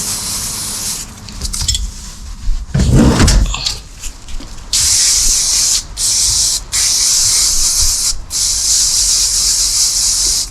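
Cleaner sprayed inside a Toyota Corolla's cabin near the instrument cluster, with a few rubbing sounds early on, then several long, close, hissing spray bursts separated by short pauses.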